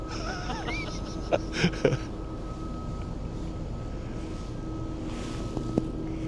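Dutch cargo ship Heemskerkgracht passing through a canal lock, a low steady engine rumble and hum under wind noise, with a few faint clanks and bird calls.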